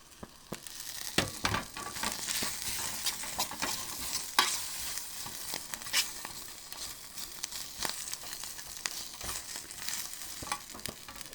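Pre-cooked bacon and beans simmer on a vintage alcohol stove turned down low, a soft continuous sizzle and bubbling punctuated by irregular light clicks and scrapes of a fork in the pot, with no voices.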